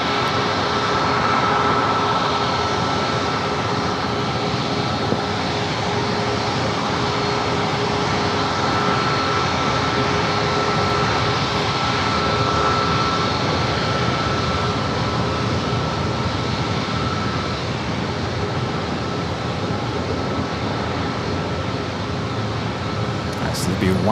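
A United jet airliner rolls for takeoff on runway 27 at San Diego airport, giving a loud, steady engine roar with a sustained whine throughout, under ongoing talk.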